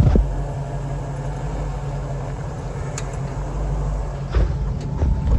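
A V8-swapped Jeep with a granny four-speed in granny low idles as it crawls up a steep hill, a steady, close engine rumble with a brief louder surge near the end.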